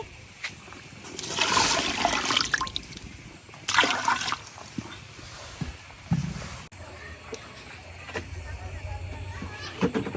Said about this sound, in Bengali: এখন ডাল সিদ্ধ করার জন্য দিয়ে দিতেছি পানি